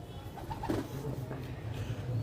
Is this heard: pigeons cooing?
yes